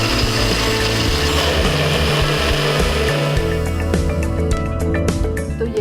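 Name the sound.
grinder jar grinding chickpeas for hummus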